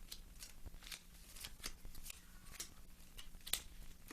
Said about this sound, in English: But we start by dealing 3 character cards to each player.